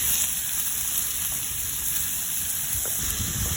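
Chicken liver sautés in a pan with garlic, onion and carrots, giving a steady, close sizzling hiss that runs without pause and with no talk over it.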